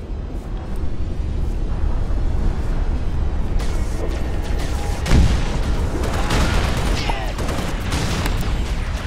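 Rapid gunfire from a weapon in Halo Reach rattles continuously amid game battle noise, with heavier booming bursts around the middle, loud and dense throughout.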